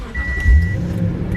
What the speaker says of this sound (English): Let's say I remote start my truck.